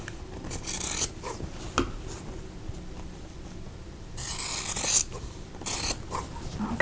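Scissors trimming the fabric corners off a wedding bouquet quilt block, cutting a quarter-inch seam allowance: several short, close rasping snips in bursts, the loudest two near the end, with no talking.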